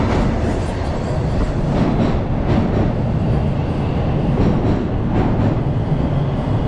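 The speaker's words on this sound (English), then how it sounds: "Here comes our train." A Toronto subway train rumbles loudly and steadily into a station, with rolling, clattering wheel noise and a few faint squeals as it pulls in, close by and continuous throughout.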